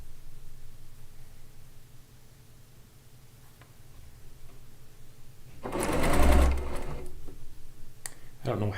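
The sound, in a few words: sewing machine stitching log cabin quilt blocks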